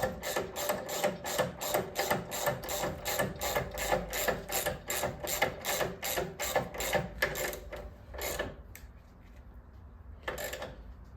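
A ratchet drives the bolt of an Ohlins rear shock on a 2009 Harley-Davidson Police Special: a steady run of close, sharp clicks, then a pause and one last short burst.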